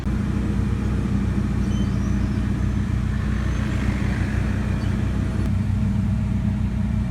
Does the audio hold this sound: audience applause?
no